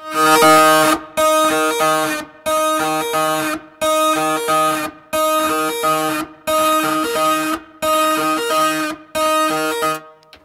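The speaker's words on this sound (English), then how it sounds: "I played some distorted electric guitar." Buzzy, heavily fuzzed electric guitar through a Fuzz Factory pedal plays chopped chords in evenly spaced bursts with short silences between, loud and close with no voices.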